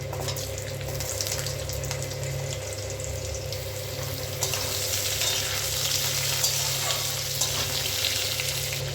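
Potato pieces added to hot oil spiced with panch phoron fry with a continuous close sizzle, stirred now and then, the hiss growing brighter and louder partway through.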